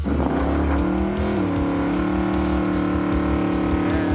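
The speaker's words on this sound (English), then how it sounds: "here comes the Challenger TA" A Dodge Challenger T/A drives past, its engine droning loud and close with a steady revving tone that shifts pitch slightly as it goes by, heard alone without voices.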